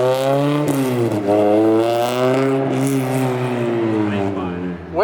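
A cold, K24-swapped 300HP Honda Civic idles and revs through a modified exhaust, giving a loud, deep, steady drone with small rev swells up close and a sharp blip at the end.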